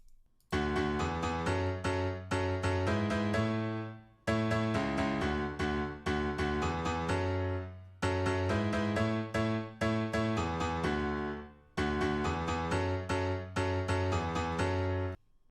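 Sustained synth chords shift up and down in repeating four-bar cycles, with short rhythmic stabs pulsing steadily, clear and alone without any voices.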